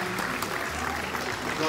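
Applause from guests at an annual Día del Charro celebration, a dense burst of clapping that blends with chatter and background voices for a brief moment.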